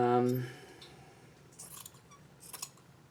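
Scissors snip fabric during sewing, a few soft crisp cuts spaced apart, starting after a brief stretch of talk.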